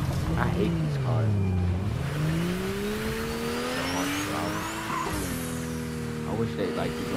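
Car driving and revving in the video game Fortnite, a continuous engine drone that rises and falls in pitch with squealing tires, loud and steady under a player's talk.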